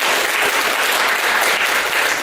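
A meeting audience bursts into steady, close applause after a rezoning application is denied, many hands clapping densely throughout with no voices over it.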